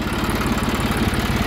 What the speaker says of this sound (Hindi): आज हम आपके लिए लेके आए हैं जोंडियर का 5305। ये 55 HP का जो है ट्रैक्टर है